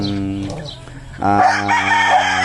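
Egg-laying hens on a Philippine backyard farm, with a rooster crowing and hens clucking close by in a short burst of fowl calls.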